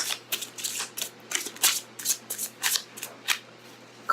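Tarot Illuminati cards being shuffled by hand, a rapid series of crisp riffling swishes in steady rhythm, close and clear with no talking.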